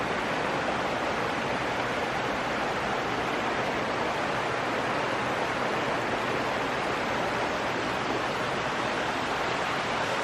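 Steady rushing water flows continuously at an abandoned mine drainage site, a broad, even wash of sound with no voices or breaks.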